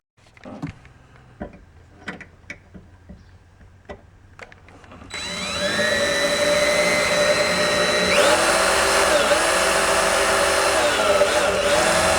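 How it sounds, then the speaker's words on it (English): A few clicks and handling knocks, then a power drill whirs up to a sustained high-pitched whine, its pitch dipping briefly as it bites in, drilling holes for speakers in a four-door Chevy Silverado. "We're going to drill the holes in first."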